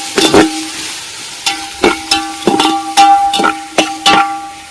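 Onions frying in oil for chicken dum biryani, heard as loud, close metallic knocks and scrapes of a ladle against the pot, repeating at an uneven rhythm over a faint sizzle.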